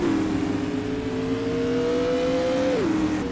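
Supermodified race cars roar through a 10-lap heat race at Oswego Speedway, a loud sustained engine drone holding steady and then dropping in pitch near the end as the pack passes.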